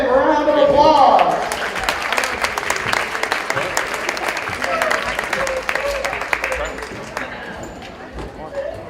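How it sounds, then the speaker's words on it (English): A crowd in a school gym at a junior varsity volleyball game applauds the seniors, a steady wash of clapping lasting several seconds after a brief spoken announcement, fading toward the end. "Let's give our seniors one more big round of applause"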